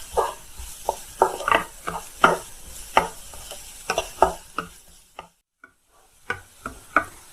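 Food in a pan being sautéed with salt and turmeric, a series of close scraping strokes and knocks from a spatula in an irregular rhythm, pausing briefly near the end before resuming.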